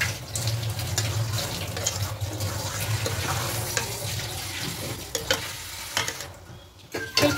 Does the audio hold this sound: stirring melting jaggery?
yes